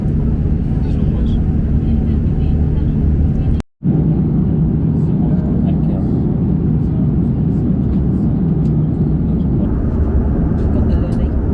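Steady, loud airplane cabin roar during a long-haul flight above the clouds, a constant low rumble with one very brief dropout partway through.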